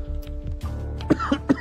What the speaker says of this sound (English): we can see you still have a cough